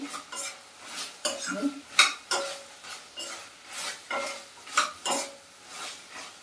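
Gobi Manchurian stirred quickly in a pan over high flame, a spatula clanking and scraping against the metal in a brisk, uneven rhythm of about a dozen close hits over a faint sizzle.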